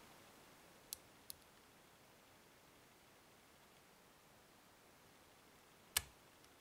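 An old Sidese tubular lock being picked gives off small, sharp metallic clicks: two close together early on, then a louder single click after a quiet pause, against near silence.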